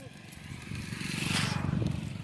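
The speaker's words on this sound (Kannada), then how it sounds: "ರೋಡ್ನ ಬೈಕ್ ಅಡ್ಡಾಡ್ತಾವ" Motorcycles pass along a rural road, giving a low engine hum that swells to a broader rush midway before easing slightly; the sound is fairly quiet and faint voices may sit underneath.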